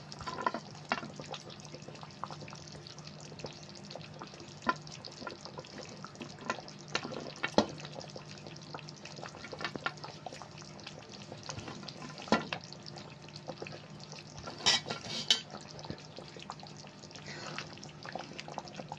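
Chicken curry with onions frying in a pan, a constant low sizzle under intermittent spatula scrapes and knocks, occasional sharper clinks near the end and no talking.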